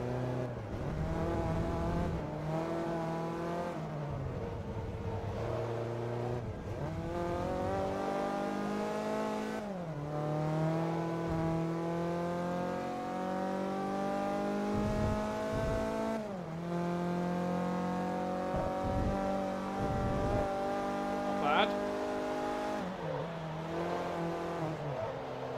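A Firebird Trans Am races in Forza Motorsport 3, its engine revving up through gears in repeated rising sweeps with brief drops at each shift, loud and continuous for the whole stretch with no voices.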